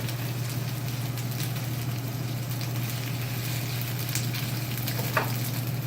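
Pesto spaghetti with chicken reheating in a pan gives a steady, dense sizzle that stays even throughout, with a faint low hum beneath and a single small clink near the end, no talk.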